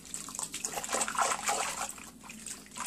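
Silicone-mix hair conditioner is stirred by hand into a bowl of lukewarm water, giving a soft, continuous swishing and sloshing with small splashes, close by and not loud.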